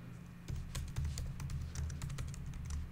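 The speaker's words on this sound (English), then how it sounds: "I suppose I should type that correctly" Faint typing on a computer keyboard, a quick run of soft key clicks over a low steady hum.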